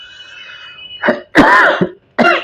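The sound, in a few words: cough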